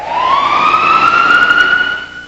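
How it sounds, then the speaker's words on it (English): An ambulance siren wails loud and close on a New York City street, one long rising tone holding steady as the vehicle rushes to an emergency. "This ambulance is rushing to the scene of an emergency."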